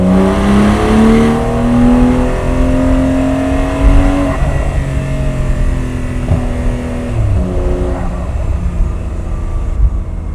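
A 2026 Porsche 911 engine revs hard above 4,000 RPM, a loud, close, rising and falling roar with tone sweeping up and down through several pulls over about ten seconds, no talking.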